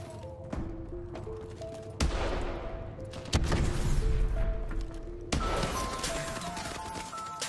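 Gunfire in the shooter game Call of Duty: Advanced Warfare comes as bursts of rapid automatic shots and sharp impacts over steady in-game background noise, loud and close, with a heavier barrage in the middle.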